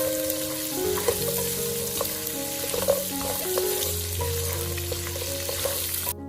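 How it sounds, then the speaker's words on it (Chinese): Pork ribs stir-frying in a wok with ginger and garlic, a steady loud sizzle of hot oil with scraping stir strokes and clinks, continuous for about six seconds. "然后继续翻炒，把姜蒜炒香。"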